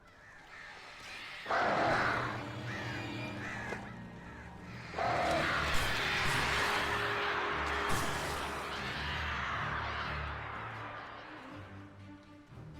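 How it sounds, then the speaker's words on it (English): Crows cawing repeatedly in the video game Alan Wake, harsh calls bursting in loud clusters over a steady low ambient drone, fairly close and continuing through most of the stretch. "Of course I'm going to get attacked by crows."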